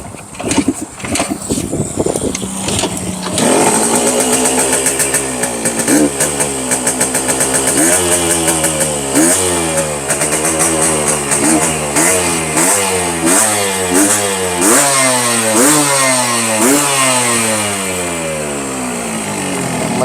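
A two-stroke motorcycle engine idles and revs repeatedly close by, its buzzy pitch rising and falling in a steady cycle of throttle blips.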